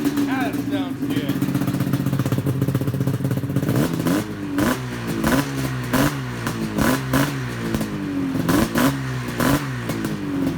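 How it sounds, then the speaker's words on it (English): Polaris XC 700 snowmobile two-stroke engine with tuned exhaust pipes, loud and close, a steady drone that breaks into a rapid series of sharp rev blips and throttle stabs in the second half. "Love how them tune pipes sound."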